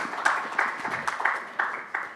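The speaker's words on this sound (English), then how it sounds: "A big round of applause for our panelists," Sparse applause from a conference audience welcoming panelists at a private equity and venture capital event, with irregular individual claps and a thin spread of hands rather than a full ovation.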